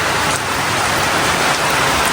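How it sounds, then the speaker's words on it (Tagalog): Heavy rain pours down beside a river, a loud, dense and unbroken hiss of drops that holds steady from start to finish without any talk. "Lumakas na po ang ulan."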